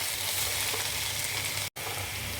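Continuous crackling sizzle of cauliflower leaves frying in a pan, with soft scraping of a spoon stirring through it and a brief cut near the end.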